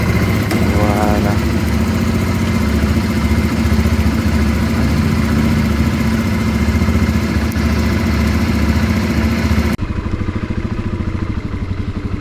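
A 125cc motorcycle engine idles steadily right after being started, a loud, close, continuous mechanical rumble with rattling clatter that drops in level near the end, during an outdoor ride.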